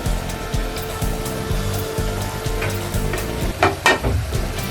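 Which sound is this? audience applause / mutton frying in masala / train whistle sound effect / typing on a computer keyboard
mutton frying in masala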